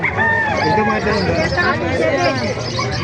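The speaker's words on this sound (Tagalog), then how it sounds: "dumagsa ang manok dito" Roosters crowing repeatedly at a poultry market in Calumpit, Bulacan, over a dense, noisy crowd of chattering voices, with clucking fowl mixed into the busy babble.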